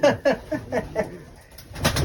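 A female pigeon coos close by in a quick series of about five rhythmic throaty pulses, followed by a brief rustle.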